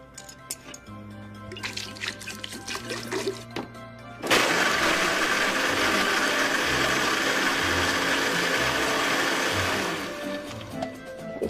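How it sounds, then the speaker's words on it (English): A blender roars on loudly for about six seconds, churning nuts, honey and water into nut milk, after a stretch of quieter kitchen clatter and tones. "Did you get that blender?"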